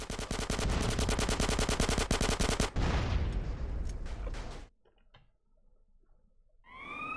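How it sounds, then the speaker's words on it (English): SMG fire from GTA San Andreas rattles in a loud, rapid continuous burst for several seconds, then cuts to near silence with a faint rising whine at the end. "Just raising my SMG skill, really."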